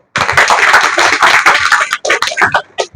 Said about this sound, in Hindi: उन सबकी लंबी तालियां हो जाए